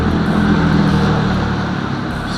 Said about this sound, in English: Oh, that's a truck.